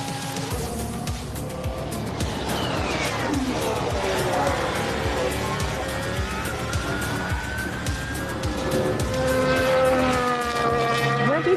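A Formula One car on hard tires drives out onto the track, its engine note sweeping up and down through gear changes as it moves past, steady and fairly loud over a busy background with some voices.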